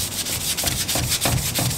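A cloth rubs Coke onto a bicycle's dirty front fork in quick, rhythmic polishing strokes, loud and close, with no talk over it.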